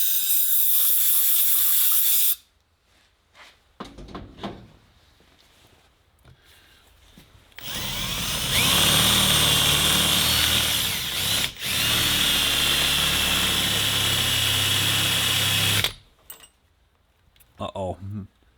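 A Milwaukee cordless power tool whirs in several bursts, with one long sustained run, while extracting an exhaust stud from a cylinder head; people talk between bursts.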